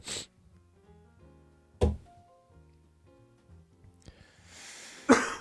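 A man coughs in a studio during a sports and entertainment podcast, with a few sharp bursts spaced across the moment, one near the start, one in the middle and a harsher final one, separated by quieter stretches.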